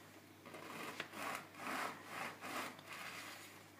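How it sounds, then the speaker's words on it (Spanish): A knife saws through a loaf of bread being cut into diagonal slices for garlic bread, giving rhythmic rasping strokes, four or five back-and-forth passes heard close up. "lo que vamos a hacer es cortar rebanadas en oblicuo sin llegar al fondo"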